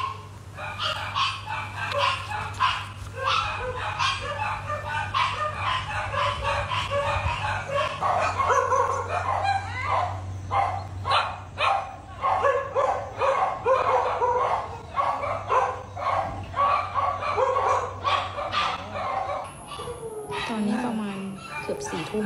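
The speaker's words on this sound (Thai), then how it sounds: "มาเกือบ4ทุ่มน้องก็ยังไม่หยุดเห่าค่ะ" Several dogs at a home bark repeatedly in rapid, overlapping bursts with yips and whimpers, loud and close over a low constant hum, while voices talk intermittently underneath.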